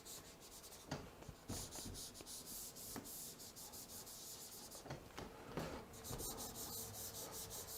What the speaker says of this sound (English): I can erase that